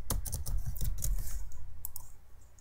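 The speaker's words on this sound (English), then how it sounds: "And I'm just going to type in wallpaper." Keystrokes on a computer keyboard, typed close up in a few quick bursts of clicks with brief pauses between them, with no voices.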